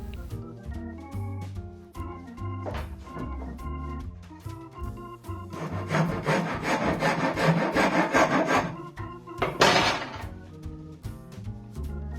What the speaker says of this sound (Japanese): そういう時はこのヤスリで削ります。